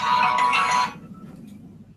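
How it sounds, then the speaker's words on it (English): A phone ringtone chirps loudly and close for under a second, then cuts off, leaving a low background hum. "my phone is ringing all the time."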